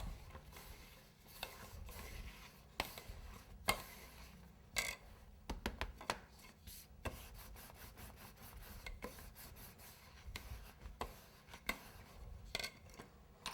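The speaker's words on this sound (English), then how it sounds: "put some cornstarch down and start to roll" Fondant rolled out on a cornstarch-dusted surface for a leprechaun pot-of-gold St. Patrick's Day cake, making soft rubbing and rasping strokes that repeat in an irregular rhythm, close and fairly quiet, with no talking.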